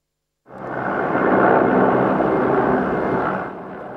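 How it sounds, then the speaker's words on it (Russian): Mi-8 and Mi-24 military helicopters leading a parade rehearsal flyover above Yekaterinburg, a loud rumbling roar that swells in quickly, holds for about three seconds and then eases off. "Первым делом вертолеты Ми-8 и Ми-24 возглавляют парадную колонну в небе над Екатеринбургом."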